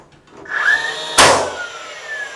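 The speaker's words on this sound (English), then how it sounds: "Nailing that." A nail gun fires once into window casing trim, giving a single sharp close crack, preceded by a brief whine and followed by a fading ring.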